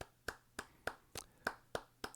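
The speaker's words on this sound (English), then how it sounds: "everybody, give Stan a round of applause" Applause on a comedy show: about seven slow, evenly spaced single claps, crisp and fairly close, with no other voices.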